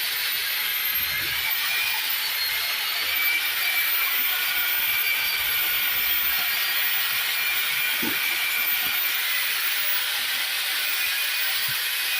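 A steady, loud hiss with a bubbling, seething texture continues unbroken, as hot lime slakes in water, boiling and steaming vigorously nearby.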